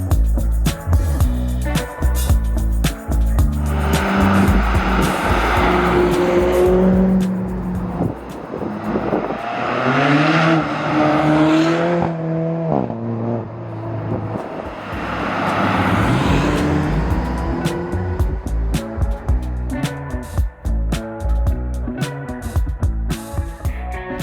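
A lightweight 5.4 litre naturally aspirated V8, 375 horsepower, called the German Mustang, drives by on a rally with loud throaty engine roar that swells and fades twice, rising and falling in pitch, no talk.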